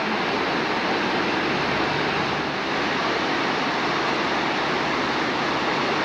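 A waterfall on the Madison River in Yellowstone roars as steady, dense broadband rushing water, loud and continuous throughout with no voices.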